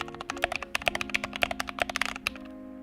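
Keys on a mechanical keyboard with lubed switches are typed in a quick, even run of close, rounded clicks over a low hum, then stop.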